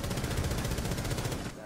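Rapid automatic gunfire in a video game, a dense burst of fast regular shots lasting over a second before cutting off, loud and close.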